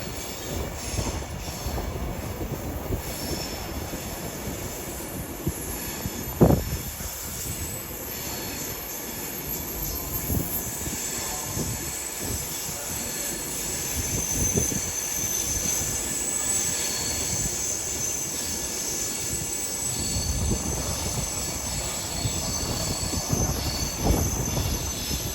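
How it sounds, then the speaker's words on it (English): An Avanti West Coast Class 390 from Manchester Piccadilly arrives at a London terminus, running late, with sustained wheel squeal, rolling rumble and occasional sharp clanks over a constant station hum. "will be a Advance West Coast from Manchester Piccadilly in the form of"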